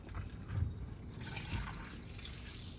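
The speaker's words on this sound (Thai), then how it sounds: "เสร็จแล้วก็เทน้ำทิ้งเลยครับ" Washing water being poured away after laundry by hand: a faint, continuous trickling and splashing stream, quiet and close, with no talk.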